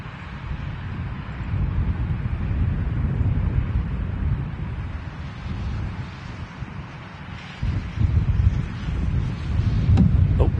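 Wind gusts buffet the microphone at the Manchester Airport plane-spotting spot, a loud, rumbling low roar that swells and eases throughout, surging harder near the end, with no talking.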